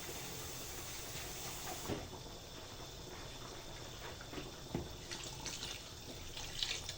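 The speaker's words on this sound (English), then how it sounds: "add more water to it" Steady water running and splashing into a cooking pot for okra soup, a continuous low rush with a few soft clinks, alone without talk.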